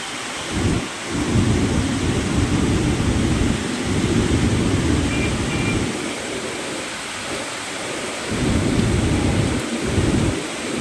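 Heavy monsoon rain pours steadily in Nashik during a flood, a dense, loud roar that swells and eases in waves with rumbling thunder underneath and no voices.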